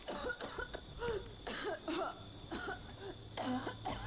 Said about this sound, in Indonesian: Oh, ini orang kenapa batuk-batuk?